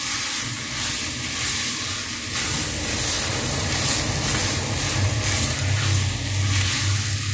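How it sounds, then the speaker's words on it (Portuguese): Creamy pork loin stew with bay leaf is stirred in a hot pan, producing a steady close sizzling hiss with a low simmering bubble underneath, continuous and fairly loud with no talking. "Vou misturar."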